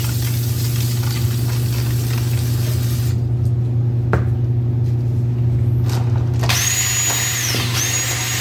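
Brake cleaner hisses from a spray can onto a greasy 1973 Honda 125 barn-find motorcycle in a long continuous burst with brief pauses, close up over a steady background hum.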